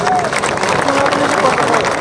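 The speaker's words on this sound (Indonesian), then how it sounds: "Tepuk tangan dulu" A crowd at a political speech gathering in North Sumatra bursts into loud, sustained applause, dense clapping mixed with cheering and crowd noise throughout.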